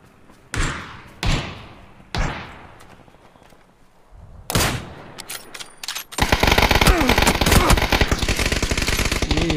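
Gunfire in the PC game PUBG: several loud, separate sniper shots with ringing decay, followed by a sustained burst of rapid automatic fire, close and punchy, without talk.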